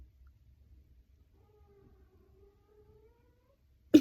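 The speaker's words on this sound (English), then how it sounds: "you might be hearing one of my cats" Kissel, a pet cat, gives a faint, drawn-out low vocalization in an otherwise quiet room, and a sudden sharp thump lands at the very end.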